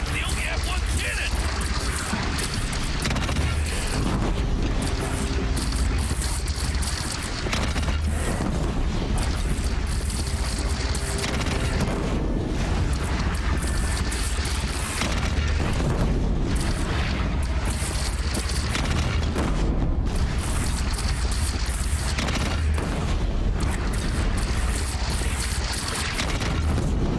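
Heavy booming cannon fire in the video game Horizon Zero Dawn, deep repeated blasts rumbling through a loud, busy battle mix with people talking over much of it.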